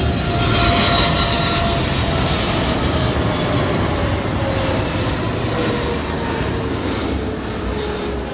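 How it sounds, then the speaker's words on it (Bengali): An airplane descends to land near a road at about 230 km/h, its engine roar loud, steady and broadband throughout with a faint falling whine, heard alone without talk. "এখানে শুধু প্লেনের শব্দই শোনা যায় এবং প্লেনে দেখা যায়"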